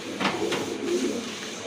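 Pigeons from a rare breed collection coo softly in a few low, rounded calls, moderately near, against a faint background hush.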